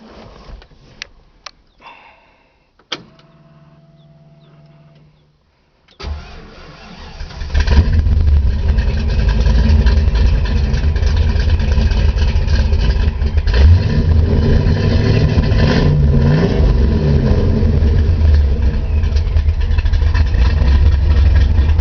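A 1965 Ford Falcon restomod with a Vortech-supercharged 5.0 V8 cranks after a few clicks and knocks, catches with a roar, then settles into a loud, steady, rumbling idle with slight revs, close up.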